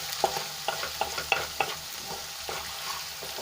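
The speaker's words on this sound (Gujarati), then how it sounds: "મિક્સ કરીને આપણે એને અડધી મિનિટ માટે સાંતળી લઈશું" Ginger, garlic and chillies sauté in hot oil with a soft, continuous sizzle, broken by repeated sharp clicks and scrapes of a spoon stirring in the pan.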